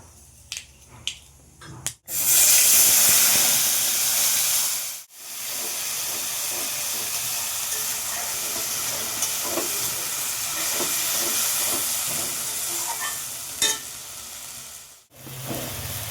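Cumin, green chilli, ginger and tomato hit hot oil in a kadai and burst into a loud, steady sizzle and hiss right after a sudden onset, continuing close up with a brief break, and no one speaking.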